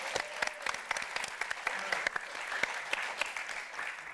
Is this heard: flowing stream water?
no